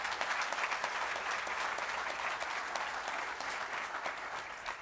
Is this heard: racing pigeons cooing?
no